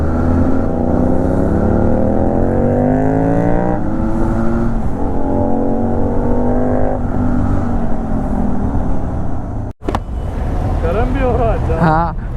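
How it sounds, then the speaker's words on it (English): An Aprilia RS 660 fitted with an SC Project full titanium exhaust roars loudly and steadily up close, its engine note rising and falling through revs, with a brief cut near the end and a voice briefly over it. "The RS 660 is making that sound. It's brutal."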